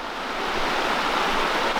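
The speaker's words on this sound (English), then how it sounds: "brook running beside it." A brook runs beside an old class 6 road in the New Hampshire woods, giving a steady, close rushing of water that stays even and continuous throughout, with no voices.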